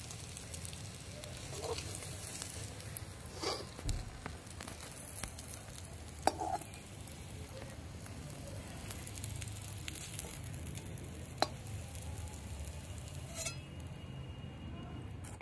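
Giant taro (mankochu) pakoras frying in hot oil, a faint, steady bubbling sizzle with occasional light clicks of a spoon or slotted ladle against the pan.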